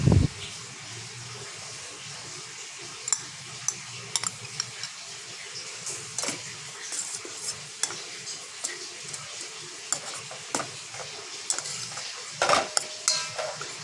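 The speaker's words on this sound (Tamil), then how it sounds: "நல்லா ஸ்டீர் பண்ணிட்டே இருக்கணும்." Grated coconut is stirred through boiling sugar syrup for a kuih ketayap dessert, with a spoon tapping and scraping the pan in scattered, close clicks over a steady low hiss.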